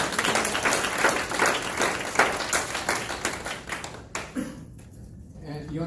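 People at a neighborhood association meeting clap for William and the Sackville Edgemere Neighborhood Association, brisk close applause from a small room that fades out after about four seconds into quieter sounds.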